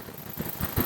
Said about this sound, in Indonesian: tadi suara mesin Anda sudah dengar halus